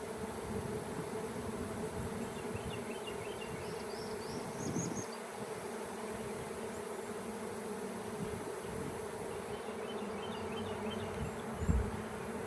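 A dense, steady buzzing of many honey bees at a hive fills the air continuously, close and loud, with no voices.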